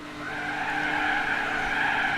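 Car skidding and tires squealing through off-throttle oversteer in the racing video game Gran Turismo 4, a steady, loud, sustained screech over engine drone with no talk.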